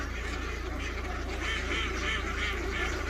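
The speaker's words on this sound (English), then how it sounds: "have you ever seen so many ducks?" Huge flock of ducks on a pond at a game bird farm, a dense continuous chorus of quacking and honking that fills the scene steadily throughout, with no voices.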